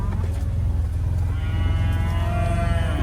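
Cow mooing on a farm, a drawn-out bovine call rising over a steady low engine rumble from a nearby truck or side-by-side, loud and close throughout.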